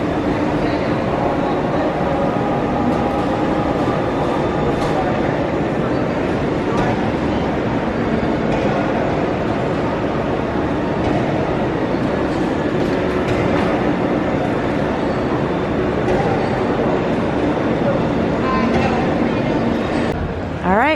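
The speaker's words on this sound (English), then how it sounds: "Here comes Monorail Orange." Walt Disney World monorail pulling in, a continuous low rumble and rolling rail noise that stays loud and near for the whole stretch, with people's voices mixed in.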